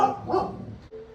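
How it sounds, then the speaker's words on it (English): Dogs barking indoors, a short, muffled bark or yip followed by a fainter whine, close by and brief, with no talking over it. "I'm sure you could have heard my dogs barking"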